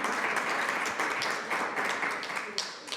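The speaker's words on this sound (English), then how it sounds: "Let's give another round of applause to our moderator, panelists, and to all of you for being here with us this afternoon." Audience applause at the close of a panel session, a dense patter of many hands clapping close by for about three seconds, slowly tapering.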